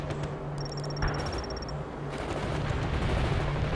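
Gunfire crackles in the video game World in Conflict: continuous bursts of machine-gun and rifle shots with a rumbling battle din, and a high electronic interface beep pulsing early on, with no voices.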